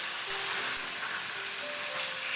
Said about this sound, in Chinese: 我们先把鸡皮煎一煎，煎除鸡皮中的油脂